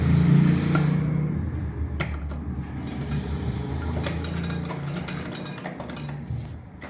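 Electric sewing machine stitching lace around the neckline of a kameez, with a steady motor hum and rhythmic needle clatter running for several seconds, punctuated by sharp handling clicks and knocks.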